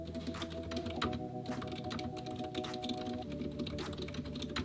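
Steady, close keyboard typing during a writing sprint, a rapid run of keystrokes over soft office ambience with a low hum underneath.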